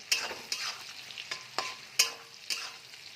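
Onions fry and soften in a pan for chilli chicken, sizzling steadily while a spatula stirs them in brisk, evenly spaced scrapes, close up with no talking.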